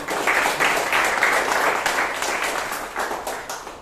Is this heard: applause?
yes